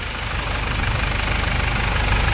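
A repaired 2011 Ford Everest engine idles steadily and close by after a top overhaul, with a low, even rumble and a faint rhythmic ticking, continuous and without talk.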